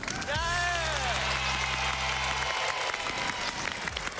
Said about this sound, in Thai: ขอเสียงปรบมือต้อนรับนะครับ